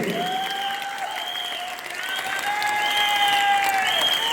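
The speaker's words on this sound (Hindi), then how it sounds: "तालियां बजती रहनी चाहिए" A seminar audience applauds steadily as a dense wash of clapping runs beneath sustained melodic tones, the cheering holding at an even level throughout.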